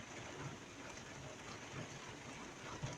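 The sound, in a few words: rain falling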